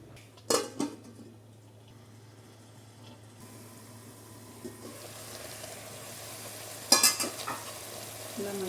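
Fish korma masala being stirred in a pan, with a few sharp metal spoon knocks and scrapes over a faint low cooking hiss, with clusters of clinks at the start and near the end.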